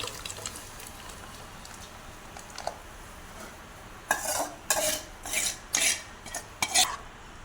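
Masala being stirred into simmering tamarind fish curry in a pot, a run of scraping, clinking spoon strokes against the metal, loud and close, with quieter rustling before.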